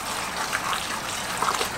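Water trickles steadily through a synthetic winch rope during rinsing, a soft continuous dribble with faint splashy bursts, close and fairly quiet with no other sounds.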